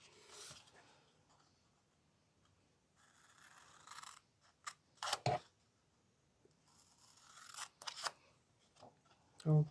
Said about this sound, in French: vous pouvez le faire à la paire ciseaux